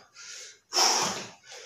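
Someone gasps for breath during a home workout of jump squats, loud ragged breaths at close range, a softer breath, then a long harsh heave and another breath starting.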